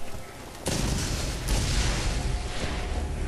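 Weapon fire in the video game Borderlands: a sudden loud blast followed by a second boom, with rumbling echoes trailing over a dense low background.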